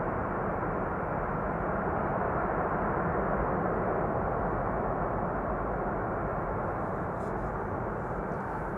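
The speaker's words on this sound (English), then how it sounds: "KLM is using the reversers." KLM airliner roaring with thrust reversers deployed on landing at Amsterdam Schiphol, a loud, steady broadband rush of engine noise that holds unbroken throughout.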